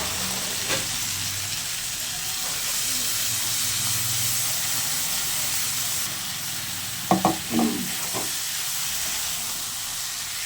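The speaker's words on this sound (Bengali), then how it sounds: "এবার ভালো করে আমি মশলাটা দিয়ে কষিয়ে নেব।" Spices sizzling with eggplant and potato in a pan as they are sautéed, a steady frying hiss throughout with a few brief clinks of a spatula against the pan near the end.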